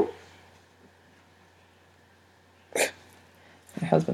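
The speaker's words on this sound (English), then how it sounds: "My husband sneezing." A man sneezes twice from across a quiet room, two sharp broadband bursts near the end with a steady low hum in the background and no talk.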